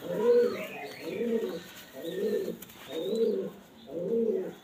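Teddy pigeons in a loft coo in five evenly spaced, soft, rolling phrases close by, with faint chirps in the background.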